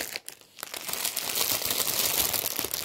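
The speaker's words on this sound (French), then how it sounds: "Donc je vais le déballer, ça sera plus simple pour vous." An embroidery kit package being unwrapped, with close crinkling plastic that starts with a few sharp rustles and then turns into continuous dense crackling and tearing.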